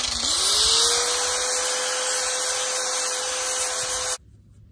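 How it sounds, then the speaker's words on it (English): Power sander working the edges of a pop-up camper roof during a hard-side conversion, a steady close whine with a rising motor pitch at the start, then cutting off abruptly near the end. "Sand off on the edges."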